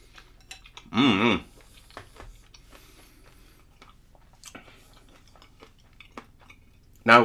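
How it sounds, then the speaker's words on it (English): Someone munches through muesli made with raw oats and milk from a French 24-hour military ration pack, with one short burst of loud, close chewing and another brief crunch near the end, separated by quiet pauses. "Now I've got to chew my way through a load of raw oats"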